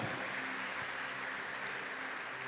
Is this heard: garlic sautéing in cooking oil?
no